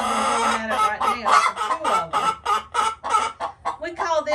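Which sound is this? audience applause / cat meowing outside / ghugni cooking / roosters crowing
roosters crowing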